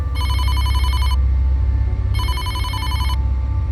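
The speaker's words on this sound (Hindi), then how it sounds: "ओह, शायद बच्चों के पेरेंट्स का फोन होगा।" A telephone rings in two electronic trilling bursts about a second each, separated by a pause, over a low steady hum.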